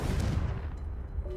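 Confringo, the fiery blasting spell in the Hogwarts Legacy game, lands as a short, loud, rumbling burst that fades over about a second.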